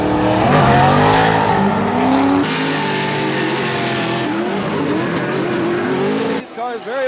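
Corvette race cars at Sebring scream past in close battle, engines revving and shifting pitch as they run door to door, loud and near, with a commentator talking over them throughout.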